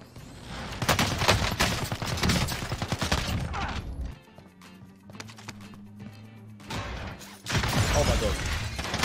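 Pistol gunfire in the Warzone battle royale shooter, a rapid string of sharp shots in bursts with a quieter gap in the middle, mixed with game noise and voices talking.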